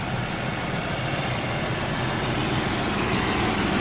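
A tractor pulling a four-furrow plough across a sloping field after rain, its heavy engine droning steadily and loudly throughout with dense broadband rumble, no voices.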